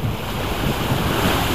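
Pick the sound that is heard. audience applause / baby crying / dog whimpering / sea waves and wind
sea waves and wind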